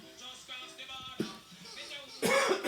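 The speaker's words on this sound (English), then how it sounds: "it does make you cough as well" A man coughs repeatedly while cooking with Scotch bonnet pepper, short harsh throat-clearing coughs scattered across the clip, ending in a louder cough burst; faint voice sounds mixed in.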